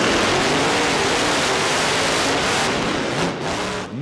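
Bigfoot monster truck, a 2003 machine, roars over a row of parked cars in a loud, continuous off-road engine blast that swells steadily and dips briefly near the end.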